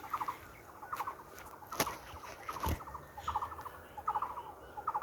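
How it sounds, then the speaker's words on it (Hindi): A dove coos in short, repeated phrases at a steady rhythm in a village, faint and somewhat distant, with a few sharp clicks in between. "ये बी फाख्ता की आवाज़ आप सुन सकते हैं बैकग्राउंड में"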